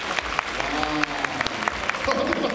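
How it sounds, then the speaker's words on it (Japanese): An audience claps for a mime act by a mascot at a basketball venue, a dense patter of many hands sustained throughout with a few louder claps standing out, while a voice talks over it. "自然と拍手が湧き上がっている。"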